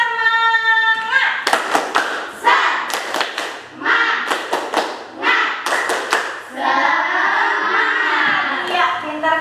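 Primary school pupils in a classroom perform a rhythmic spirit clap chant, bursts of sharp group clapping in patterned beats alternating with children's chanting voices, near and loud.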